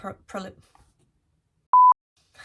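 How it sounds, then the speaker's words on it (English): A phone message notification gives one short, clear electronic beep after a brief stretch of speech, followed by silence. "Loads of messages popping up on my phone."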